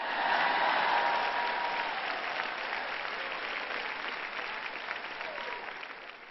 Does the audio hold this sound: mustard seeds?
no